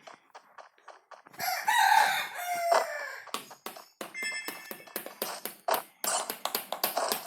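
A rooster crows loudly in a parkour video game, a long call followed by clucks, over a steady run of sharp tapping footstep-like clicks.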